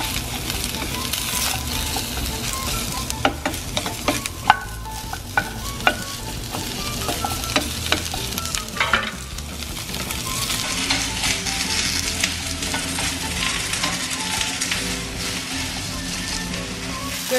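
Bacon and asparagus fry in olive oil with a dense, continuous sizzle, broken by scraping and clinking as the pan is stirred, loud and close, with no voices.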